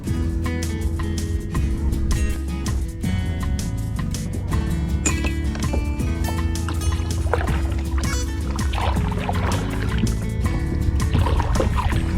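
Kayak paddling on the clear, transparent water of the Ölüdeniz Blue Lagoon in Turkey, a steady close wash of water and paddle movement running throughout at even loudness with no talk.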